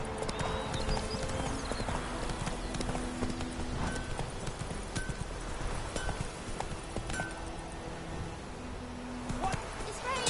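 In The Witcher 3, the horse Roach walks with steady, rhythmic hoof clip-clops beneath a wash of game ambience and background music, with a voice speaking at times.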